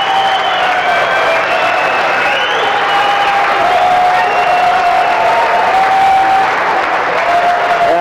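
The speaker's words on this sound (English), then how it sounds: "The crowd is giving a terrific ovation, and well they might." A boxing crowd at a North American Boxing Federation title fight gives a standing ovation, with dense, sustained applause and cheering that fills the whole stretch at steady loudness, whistles and shouts rising above it.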